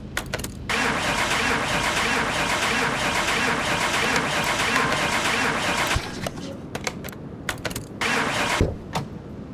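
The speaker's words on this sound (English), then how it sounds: "For some reason, it still won't start." A car's engine cranks over and over without catching in Car Mechanic Simulator 2021, a steady loud churning that runs for about six seconds before breaking into short bursts with brief gaps.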